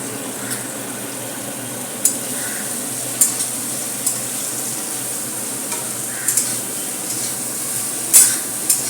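Nutrela soya chunks are stirred and fried in oil in a kadai. A soft, even sizzle sits underneath a handful of scattered spoon clinks and scrapes, close to the listener and with no voices.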